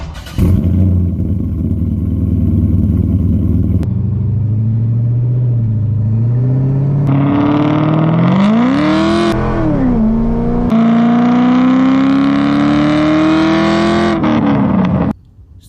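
A C5 Corvette accelerates through several gears, its V8 rumble climbing in pitch, dropping at each shift and rising again, loud and close throughout before cutting off near the end.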